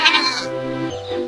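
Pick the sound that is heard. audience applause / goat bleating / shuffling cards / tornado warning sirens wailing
goat bleating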